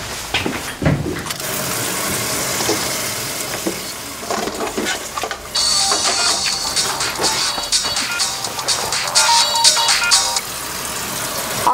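A mobile phone ringtone rings in a busy restaurant kitchen, a steady electronic tone over loud sizzling and stirring from a frying pan, with no talk.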